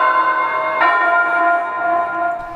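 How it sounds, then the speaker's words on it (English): Shanghai's iconic clock tower sounds its chimes, a loud, resonant bell tone with a strong ringing onset that sustains and slowly decays, heard alone without voices. "Behind Shanghai's iconic clock, this man keeps every one of his chimes on time."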